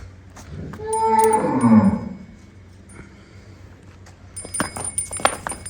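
Buffalo on a village farm in Thatha lowing with a long, loud moo in the first two seconds, followed by quieter farmyard rustling and clinks with no talk.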